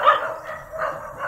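A dog barks a few times in quick succession, fairly close and alone, with no voices over it.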